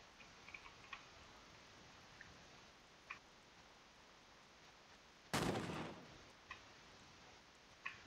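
A single sharp gunshot from a musket or firearm in the video game Mount and Blade Warband rings out loud and alone, with a decaying tail, amid faint ticking background sounds.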